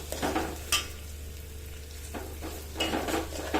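Peas sizzle in a hot pan while being stirred for pulao, a steady close frying hiss broken by a few scraping spoon strokes.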